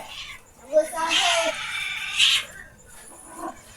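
A cat meows a few times, with a drawn-out plaintive cry in the middle, while people talk nearby.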